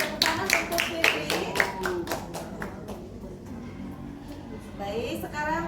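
A classroom of students claps for a classmate, a burst of fairly loud, rapid hand claps that thins out and fades within a few seconds, with voices talking underneath.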